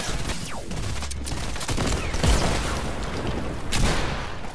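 Dense video-game gunfire sprays at the player in a continuous fusillade of rapid shots and booming impacts, loud and close, with swells of heavier blasts over the rattling fire.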